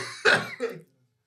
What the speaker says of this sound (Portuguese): Agora é que vou mesmo tossir.